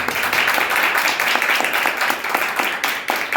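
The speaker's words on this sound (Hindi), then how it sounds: "ताली बजा के हम प्रभु के नाम में।" A church congregation claps steadily and loudly throughout, a dense, continuous patter of many hands filling the hall.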